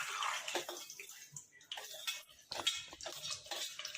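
Fenugreek seeds sizzle in hot oil with a soft, crackling, uneven fizz and scattered small pops, close by and fairly quiet.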